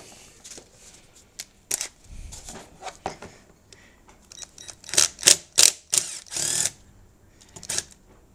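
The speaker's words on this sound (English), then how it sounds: "We need to remove the Torx bits up here" T25 and T20 Torx screws are worked loose from a BMW 1150GS starter motor with a hand tool, giving close, sharp clicks and ratcheting ticks in irregular bursts that grow busier toward the end.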